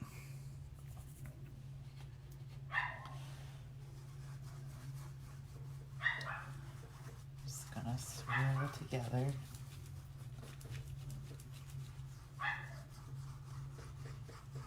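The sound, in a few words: dog barking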